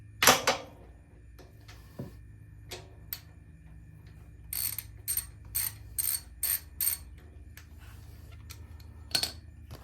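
12mm socket ratchet loosening the oil drain plug on a Duromax XP13000HX generator, with a few isolated clicks followed by a quick run of sharp ratcheting clicks up close, then another click near the end.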